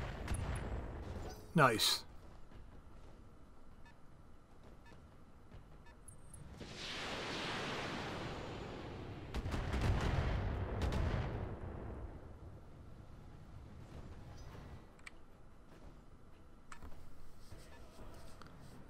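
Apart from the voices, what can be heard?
mech weapons firing in Roguetech video game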